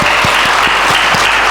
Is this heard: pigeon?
no